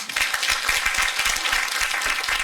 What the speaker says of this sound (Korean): 진보라 양을 박수로 맞아주시기 바랍니다.